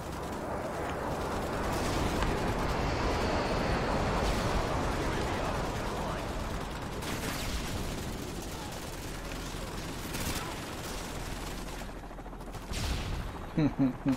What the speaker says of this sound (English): payload inbound. Friendly airstrike on the way.